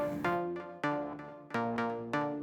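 A guitar run through an H90 pedal with a Crystals effect feeding Filter Pong, kept fairly subtle: rhythmic plucked chords, each ringing with a shimmering, bright delayed tail, close and alone.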